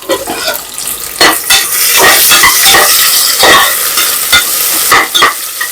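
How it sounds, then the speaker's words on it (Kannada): Onions sizzle loudly in hot oil in a pan, stirred with a utensil that scrapes and clinks against the metal in an irregular rhythm close by. "ಈರುಳ್ಳಿ ಫ್ರೈ ಆಗುವಾಗ"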